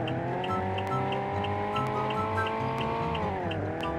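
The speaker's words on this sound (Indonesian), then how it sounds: "jadi suaranya dia seperti itu ya, mengenai dari Opel Blazer" Engine of an Opel Blazer SUV in a Roblox driving game, a steady synthetic motor drone with layered harmonic tones that rise slightly and then dip near the end, continuous and close.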